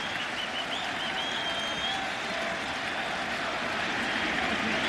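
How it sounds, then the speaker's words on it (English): Baseball stadium crowd at Yankee Stadium during the 2003 ALCS Game 7, Red Sox vs. Yankees, roaring and cheering after a Giambi home run, a dense, steady wash of distant crowd noise that holds throughout. "The home run by Giambi has awakened this crowd"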